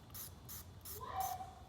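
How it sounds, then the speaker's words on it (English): A spray-top bottle of supplement pumped under the tongue: four short, close hissing bursts in a steady rhythm, followed by a faint mechanical click as the pump finishes. "it's a spray top, 5 sprays."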